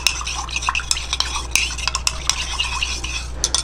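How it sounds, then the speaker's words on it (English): A spoon stirs a homemade facial cleansing oil mixture in a small container, making rapid, close clinking and scraping taps in an irregular, continuous rhythm without any talking. "You mix it very well."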